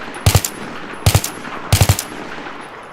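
Three short bursts of assault rifle fire in Battlefield 3, aimed at a target 80 meters away. Each burst has two or three sharp, loud shots, with brief pauses between bursts and no talking.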